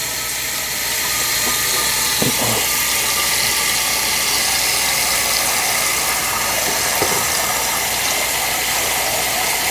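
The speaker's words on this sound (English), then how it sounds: "Some cold water. And we're just gonna fill it up." Cold water runs from a kitchen sink tap into a pot, a steady rushing hiss lasting the whole clip with a few faint clanks of the pot.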